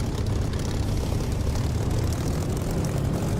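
A Spitfire's propeller engine roars at takeoff power in the DCS flight simulator. The drone is loud, close and unbroken, a dense rumble that holds steady throughout, with no voices.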